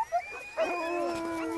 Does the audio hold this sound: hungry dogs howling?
yes